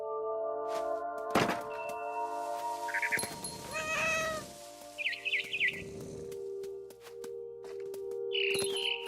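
A cat meows in the video game What Remains of Edith Finch, giving several distinct, fairly close meows among soft thunks and a few high bird chirps over a steady tonal game-music background.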